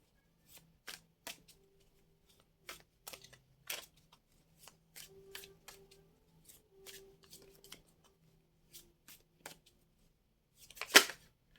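Cards are shuffled and flicked in short crisp bursts with pauses between, ending in one louder riffle, close and without voices.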